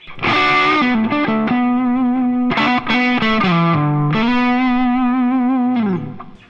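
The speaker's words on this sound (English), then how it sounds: "This is what my guitar sounds like without the delay." Electric guitar with gain and no delay pedal engaged, a string of sustained, distorted single notes and bends played up close and loud, with dry gaps between phrases and no voice.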